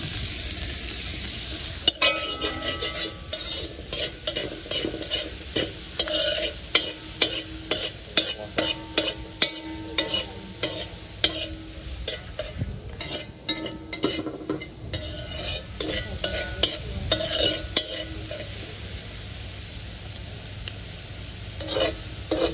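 Onions and peppers fry hard over an open fire at high heat, a continuous sizzle broken by frequent sharp scrapes and clinks of a utensil against the pan; no talking.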